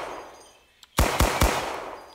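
A gun in the video game Receiver clicks once, then fires three loud, rapid shots in quick succession, each with a short echoing tail.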